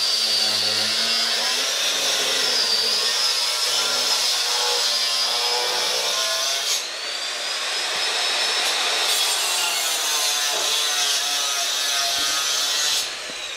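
A saw cuts steadily through a mosaic-tiled wall, giving a loud, continuous grinding rasp with a high whine that barely changes, interrupted by only a couple of short dips, with no talking.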